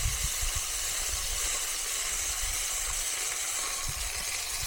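Steak fat rendering on the hot side of a pan, a steady loud sizzling hiss with low crackling underneath, continuous and close throughout.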